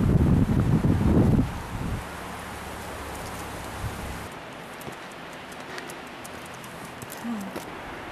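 Blustery wind at Beacon Rock on the Columbia River: loud, rough gusts buffet the microphone for the first two seconds, then settle into a steady, softer rushing hiss.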